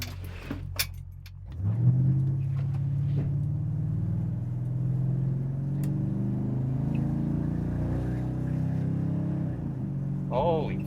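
A car fitted with a 1960s transmission under electronic control drives along, its engine settling into a steady low rumble after an initial clatter and a rev-up, with a brief higher whine near the end.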